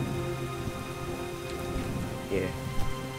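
Rain falling in the video game Starbound, a steady pattering of drops running throughout, while a voice briefly speaks over it.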